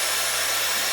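A Dyson Airwrap blows hair dry through its wide-tooth comb attachment, a steady, close, rushing whoosh of air with no voices.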